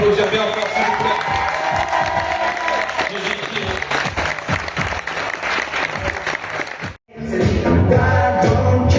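An audience at a battle event bursts into loud, sustained applause and cheering with voices mixed in, breaking off briefly before the clapping surges back.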